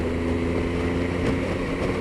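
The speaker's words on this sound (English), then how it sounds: "Just ease my speed a little and drive the bike through the corner." A motorbike eases through a right-hand bend on a damp, greasy road, its engine a steady close drone blended with rushing wind noise.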